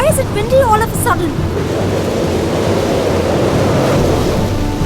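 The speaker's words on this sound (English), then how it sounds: "Why is it windy all of a sudden?" A rushing, roaring wind fills the scene with steady broadband noise. A voice is heard briefly at the start before the gusting takes over.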